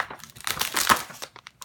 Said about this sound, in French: On va ouvrir le deuxième tripack.